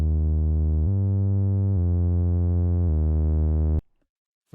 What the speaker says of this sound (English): It's just a basic saw with a filter at OSR with the drive, and it opens up.